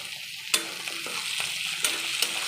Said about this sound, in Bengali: আমি থেতো করে রাখা রসুনগুলো দিয়ে দিলাম।